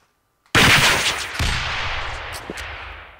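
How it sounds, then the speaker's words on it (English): Loud automatic gunfire in the Xbox 360 shooter Breach starts abruptly after a short quiet moment, a dense close burst that tails off into ringing decay with a few sharp impacts. "Shoot the missile"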